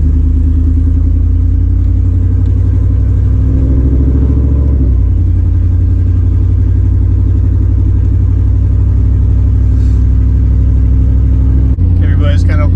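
A loud, heavy 5.3 V8 engine in a 1998 Chevrolet K1500 pickup rumbles steadily at close range while driving, easing off partway through, with a brief clatter near the end.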